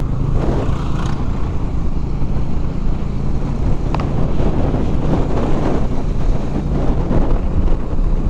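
Strong wind blasting against a motorcycle rider on a highway ride from Jhansi toward Chandigarh, a loud continuous roar of wind buffeting the microphone, with low rumbling gusts and no talking.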